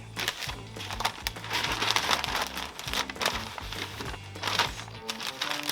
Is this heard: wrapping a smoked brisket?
yes